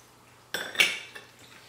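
A utensil clinks and scrapes against a bowl as cucumber is mixed in, a couple of short close knocks followed by a fading rattle.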